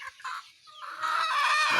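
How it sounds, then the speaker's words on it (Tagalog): Backyard chickens gathering at feeding time on a Filipino homestead near a market trip, clucking in a few short calls followed by a longer, rising squawk, moderately close and with no voices. "Ayan yung ating mga manok, nagsalubong na lahat"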